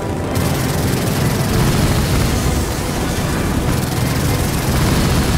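An airplane is destroyed in the video game Gears of War 4, a loud, dense roar of explosion and engine noise that rumbles continuously and fills the whole span.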